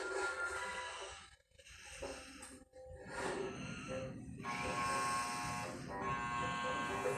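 A harsh electronic buzzer drones loudly, cutting out briefly a few times before resuming in long sustained blasts.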